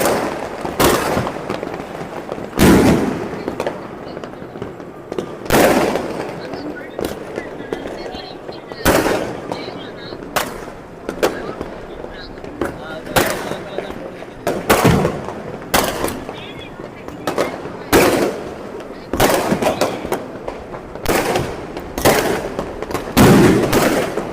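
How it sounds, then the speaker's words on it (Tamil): Fireworks bursting at the Karthigai Deepam festival in Tiruvannamalai, with loud sharp bangs and crackling repeated every second or two throughout, over a steady crowd murmur and background voices. "ஆனால் வான வேடிக்கையாக பறக்குதுங்க ஐயா வான வேடிக்கையாக இருக்குது"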